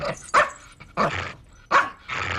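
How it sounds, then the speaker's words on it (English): Three loud, sharp dog barks from an animated cartoon, spaced about half a second apart against a faint background, with no talking. "Stupid dog!"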